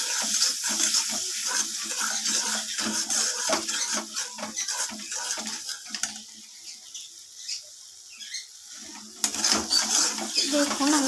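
Water splashes into a pan of frying ginger-garlic spice paste for an egg curry, giving a fizzing, spattering hiss with clatter from the pan, then quieting before a fresh burst of sizzling.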